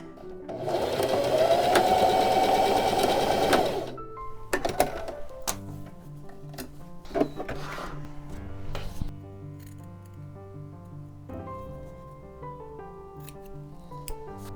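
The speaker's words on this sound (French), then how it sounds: "Donc à la machine, je vais faire ces 2 petites coutures-là ici sur le côté comme ça" A sewing machine stitching the side seams of a pyjama shirt made from a Butterick 6837 pattern, a loud steady whirring run of about three seconds, followed by quieter handling clicks and rustles.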